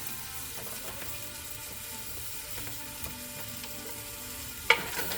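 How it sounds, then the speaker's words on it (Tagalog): Onions sautéing in hot cooking oil for kare kare, a soft steady sizzle with light stirring scrapes and a sharper clink near the end, moderately quiet and close, no one talking. "Ito, nagpainit na po ng mantika. So, magigisa lang po tayo ng"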